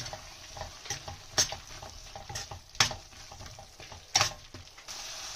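Fried taro pieces stir-fried in a curry gravy in a pan, soft steady sizzling broken by a few sharp spoon scrapes and clinks against the pan at irregular intervals.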